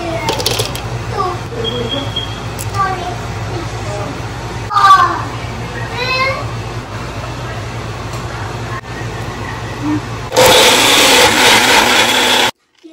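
An electric blender grinds a spice paste of ginger, garlic, cashews, almonds and yogurt, a loud roaring whir that kicks in abruptly near the end and runs steadily for about two seconds before cutting off, following a stretch of a person talking.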